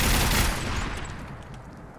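Peppermill crank gun from Fallout 4 firing a rapid, continuous burst of loud gunshots that starts heavy and tapers off slightly over about two seconds, with no talking.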